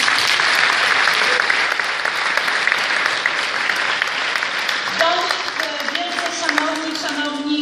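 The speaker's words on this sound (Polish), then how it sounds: "Też wielkie brawa dla nich" Sustained, loud applause from a crowd at a party convention in Białystok fills the room without a break, with voices and a faint tonal sound emerging near the end.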